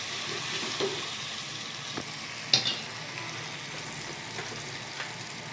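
Ginger, tomato and chillies sizzling steadily in hot oil for a cauliflower-potato curry, a constant close frying hiss with a few small clinks and pops.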